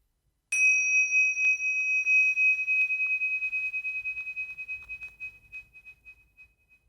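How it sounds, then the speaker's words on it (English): A single meditation bell is struck once in a quiet classroom, its clear bright tone ringing out alone and slowly decaying over several seconds. "when you hear the bell, you can bring your attention into the room again"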